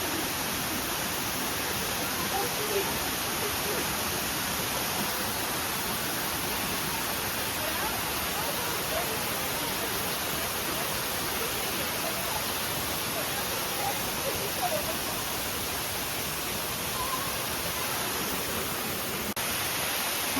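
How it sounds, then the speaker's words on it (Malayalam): A waterfall roars in a dense, unbroken wash of rushing water that holds steady and loud from start to finish, with voices buried faintly beneath it. "നല്ല വെള്ളച്ചാട്ടം നോക്കിക്കോ"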